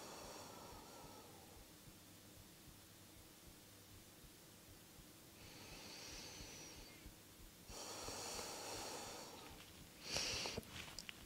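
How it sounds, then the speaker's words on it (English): Slow, deep breaths drawn in near silence during a quiet moment of stillness in a heart-opening vinyasa yoga class, soft airy inhales and exhales rising in two or three gentle swells toward the end. "Take 3 deep breaths on your own."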